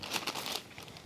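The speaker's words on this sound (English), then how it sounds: "I am going to take in just this little plastic bag, and this is our overnight soaked grain, so it is soft." A small plastic bag holding overnight-soaked, softened whole grain crinkles and rustles as it is handled up close, a steady crisp crackling that fades slightly toward the end.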